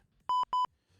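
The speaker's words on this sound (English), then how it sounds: "This one, here's the beep." Two short, identical electronic beeps sound in quick succession from a button press on an audio device. The beeps are clean and tonal against a near-silent background.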